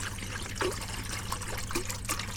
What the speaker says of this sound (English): I'll put some water in.